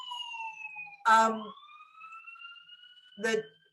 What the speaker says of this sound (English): So now that I'm getting the siren